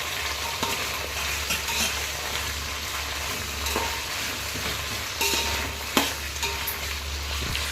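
Soya chunks (meal maker) fry over high heat in a pan, a steady loud sizzle broken by scraping stirs and occasional sharp clinks of a utensil.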